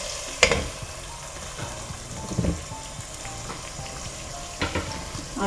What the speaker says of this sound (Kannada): ಸ್ವಲ್ಪ ಚೆನ್ನಾಗಿ ಹುರಿಬೇಕು ಈರುಳ್ಳಿ